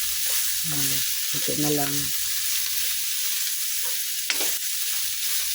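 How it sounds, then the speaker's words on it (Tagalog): Meat frying in a pan as it renders its own fat, a steady broadband sizzle throughout, with a brief spoken remark partway through and a short sharp clink near the end. "Malapit na siya mag-release ng kanyang sariling mantika."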